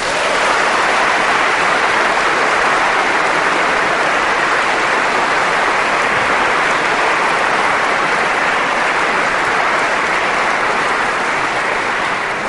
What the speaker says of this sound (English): I think we owe them a round of applause for that.